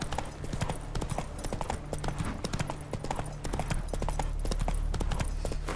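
Galloping hooves of the horse Roach in The Witcher 3: Wild Hunt, a rapid, continuous clip-clop rhythm that grows heavier toward the end, with no voices.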